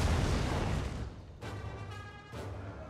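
Artillery missile shots striking in the Total War: Rome 2 battle game, heard as a sustained rumbling barrage with a couple of sharper impact bursts standing out from the dense, loud wash of noise.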